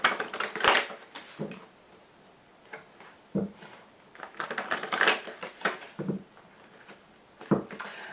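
Celtic dragon tarot cards are shuffled in soft, irregular bursts of papery flutters and taps, fairly faint and close, with brief pauses between handfuls.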